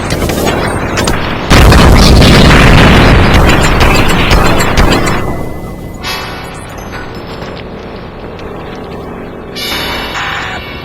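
A natural gas tank explodes in a video game after a bullet strikes it, giving a loud, sustained boom with roaring rumble that slowly fades into lingering crackling debris and background sounds.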